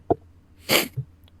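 A single sharp sneeze bursts out, preceded by a brief intake sound and followed by a short sniff, close and fairly loud.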